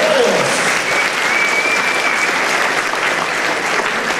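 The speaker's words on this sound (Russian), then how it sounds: "Аплодируйте, аплодируйте," Steady applause from an audience fills the hall at a university student event, dense clapping sustained at an even level throughout with no pauses.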